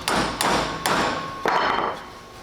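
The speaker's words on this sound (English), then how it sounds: "I prefer steel hammer" Steel hammer striking a metal base collar during installation, four sharp ringing impacts spaced about half a second apart, close and loud with metallic decay between blows.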